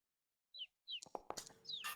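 Birds chirp in an ancient underground forest, a few short, high calls at first, then a busier run of chirps and rustling, fairly faint and with no voices.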